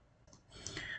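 A computer mouse gives a faint, quick click, then a soft run of light ticking in a quiet room.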